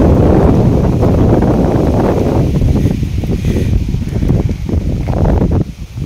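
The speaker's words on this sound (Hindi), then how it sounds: "बगीचे में बहुत जोर जोर से हवा चल रही है" Strong wind blows through a garden with a bamboo plant, a loud, steady rushing roar buffeting the microphone that eases slightly toward the end.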